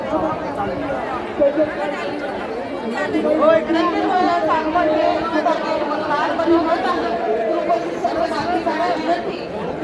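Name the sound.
crowd chattering at the Siddheshwar Maharaj yatra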